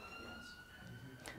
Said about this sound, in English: London, sirens.